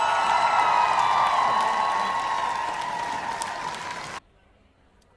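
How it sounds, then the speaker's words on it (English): A crowd at a sports foundation scholarship and awards ceremony claps and cheers for sponsors, with whoops and shouts over the applause, which fades gradually and then cuts off abruptly into near silence. "Give them a round of applause."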